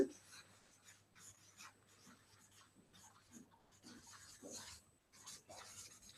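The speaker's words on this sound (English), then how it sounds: "So I'll write the topic reporting verbs." Marker strokes on a classroom board as a teacher writes a lesson topic, a run of short scratchy squeaking strokes with brief pauses, close and fairly quiet, with no talking.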